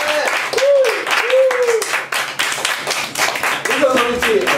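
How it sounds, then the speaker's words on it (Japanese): An audience at a live stage show gives energetic applause in bursts of sharp claps, with shouting and talking voices over it throughout. "元気な拍手"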